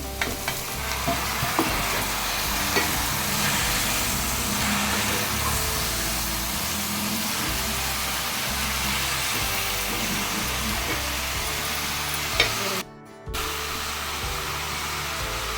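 Onions and tomatoes sautéing in a pan for tomato thokku, a continuous close sizzle with stirring scrapes and a brief drop near the end.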